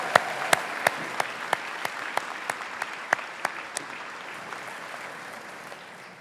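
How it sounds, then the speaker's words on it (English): Diners at a chamber of commerce annual awards dinner applaud, with a bed of crowd clapping punctuated by a dozen sharp, loud individual claps in a steady rhythm that fade out over several seconds. "Please give these fine men and women a great round of applause."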